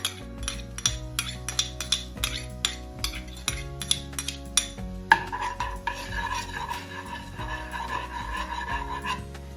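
A spoon stirs honey, crushed ginger and garlic into a teriyaki sauce in a pan or bowl, giving repeated close clinks and scrapes in a steady rhythm that turn to a continuous swirling, faintly sizzling scrape in the second half, with no talk.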